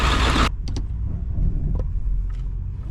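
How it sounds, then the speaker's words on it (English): A 1995 Ford F350 crew cab truck with a 7.3L diesel runs with a steady low rumble, with a louder broadband burst at the start and faint clicks and knocks over the drone. "Initial cold startup, it had a little bit of smoke, but well, it's running nice and healthy now."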